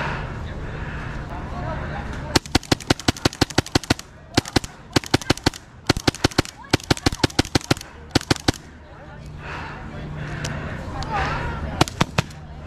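Magfed paintball markers fire in rapid bursts of sharp, snappy pops at a player, several volleys separated by brief pauses, loud and close over outdoor ambience with some voices.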